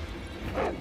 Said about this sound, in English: All I'm trying to do is hit the dog.